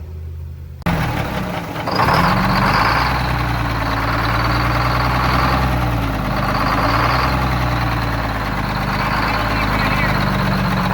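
The engine of a 4104 fires up just after its cylinder head swap and settles into a loud, steady, rumbling idle that runs on without a break.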